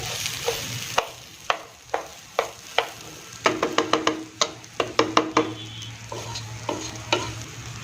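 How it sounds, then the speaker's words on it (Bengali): Rice for a carrot and pea pulao is fried in a pan under a soft steady sizzle, broken by rhythmic spatula scrapes and taps that speed up midway. "চালটা যত ভাজা হবে পোলাওটা তত সুন্দর হবে, তার জন্য ভালো করে ভেজে নিচ্ছি"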